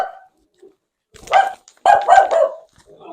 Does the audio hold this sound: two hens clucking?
no